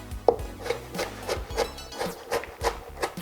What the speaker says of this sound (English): the other half now, I'm just gonna rough chop that